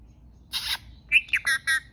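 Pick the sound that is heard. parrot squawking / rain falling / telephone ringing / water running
parrot squawking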